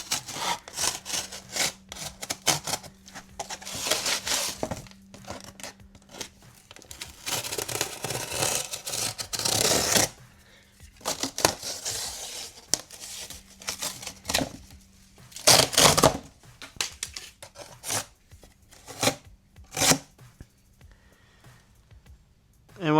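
Leather seat cover material for a Box Chevy Caprice being cut by hand, with irregular scraping and slicing strokes, fairly close, broken by short pauses and a few sharper bursts.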